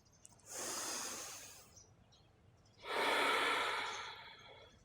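Two long, audible exhalations during a yoga spinal twist, each lasting about a second and a half, close and breathy with a soft snort-like rush, separated by a quiet pause.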